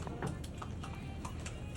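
Hooves shod with hard iron horseshoes clip-clop in a quick, even rhythm on the Amarnath Yatra route, faint against steady background noise.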